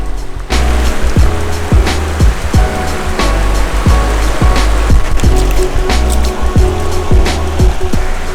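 Water flowing along a stream near a waterfall on Cebu Island in the Philippines, a loud, steady rushing wash that runs unbroken throughout with repeated low thumps, as if from footsteps or handling close by.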